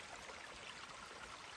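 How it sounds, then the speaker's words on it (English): Hop Brook, a forest stream in Glen Holland near Belchertown, Massachusetts, flows with a soft, steady, faint babble and no voices. "Just comes down to the brook. This is called Hop Brook,"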